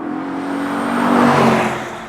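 A 2022 Lexus IS 500 F Sport Performance rolls through slow traffic with a low, steady engine drone that swells slightly and fades over a couple of seconds.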